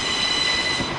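An Alstom Coradia regional train rolls past near München Hbf with a steady, loud broadband rumble of wheels on rail and a faint high squeal.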